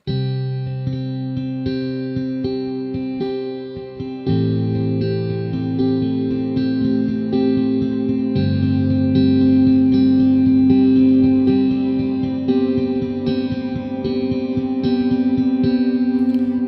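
A sustained synth pad swells with shimmering, echoing layers and slowly shifting chords, loud and spacious with no talking.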